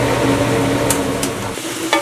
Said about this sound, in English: Just in time for you to hear that sizzle.